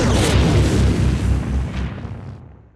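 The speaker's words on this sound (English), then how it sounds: "Fire the Yamato cannon." Yamato cannon firing into a huge explosion: a loud, deep rumbling boom that fills the first two seconds and then fades away, with no speech over it.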